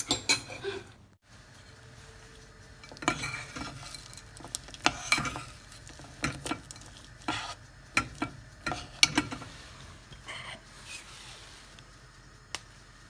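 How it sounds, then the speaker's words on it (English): Melted chocolate being mixed into dates, probably in a bowl, with a run of soft sticky stirring and scraping clicks and taps that come in bursts and pauses, close up, with no talking. "I've just mixed in some of that melted chocolate with the dates"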